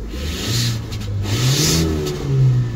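A Chinese SWM car engine revs up close and loud in repeated swelling rises and falls, a rough mid-pitched roar with no voices over it.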